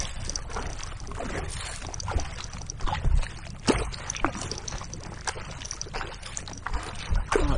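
Kayak paddling on Coniston Water, with repeated paddle strokes and splashes against a steady wash of water and wind, close and moderately loud, with no speech.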